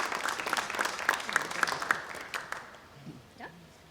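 A room audience applauds panelists at a sustainability open house, a moderate burst of clapping that fades after a few seconds, with a voice talking briefly near the end.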